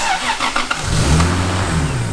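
A Lexus IS300 with a heavily grounded engine cranks and fires, then settles into a loud, steady, rumbling idle close by, with no talking over it.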